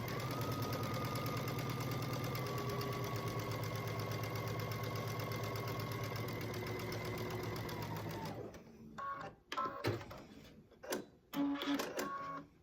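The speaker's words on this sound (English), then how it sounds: "we are going to start with sewing a 1/4 inch seam allowance down this side" A sewing machine runs a steady, fast whirring stitch along a quarter-inch quilt seam for several seconds, then stops, followed by a few close clicks and knocks of handling the fabric and machine.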